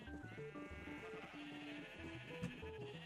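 Sheep bleating in the Minecraft video game, short repeated calls over steady background game music with bright plinking notes, a flock adding one sheep at a time, moderately loud throughout.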